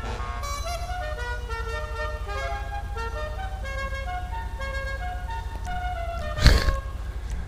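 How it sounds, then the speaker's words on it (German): A car horn honking in the video game GTA V, sounding as a steady run of shifting, melodic horn tones over a low constant rumble, with a short loud burst near the end. "Hupe."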